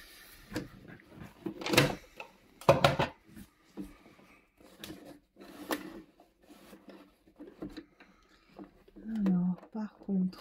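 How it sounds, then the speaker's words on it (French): Scraping knocks and thumps of a chair being shifted across the floor toward a Brother CV 3550 coverstitch sewing machine, a few loud bursts spread out between a woman's speech. "Ça, c'est le bruit de ma chaise."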